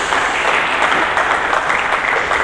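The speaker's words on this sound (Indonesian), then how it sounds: "Berikan tepuk tangan dulu bagi Yesus Kristus" A church congregation claps steadily and loudly throughout, the applause dense and continuous with no voice rising above it.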